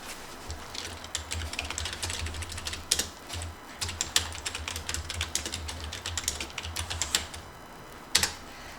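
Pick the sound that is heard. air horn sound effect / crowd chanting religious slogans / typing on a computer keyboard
typing on a computer keyboard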